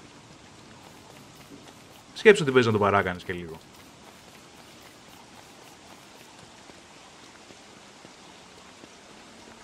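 Rain falls steadily in the survival game Don't Starve, a faint even hiss running the whole time, with someone briefly talking over it early on.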